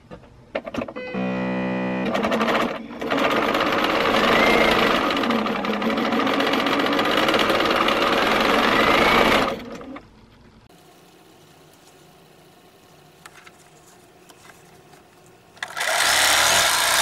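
A sewing machine stitches quilt pieces in two long, loud runs, stopping briefly between them and again near the end, with a quieter hum during the pause before stitching resumes.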